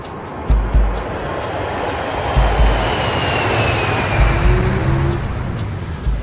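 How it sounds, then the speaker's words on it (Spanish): Airplanes taking off and landing near Heathrow roar in a loud, broad rumble that rises and swells over several seconds, with a faint engine whine sliding across it and low thumps underneath. "están acostumbradas al ruido de los aviones que despegan y aterrizan."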